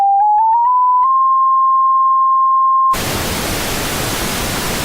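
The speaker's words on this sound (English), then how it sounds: "That's pink noise." A pure tone steps up in pitch before giving way to a steady, loud pink-noise test signal used for speaker equalization, a broad even hiss with no voices.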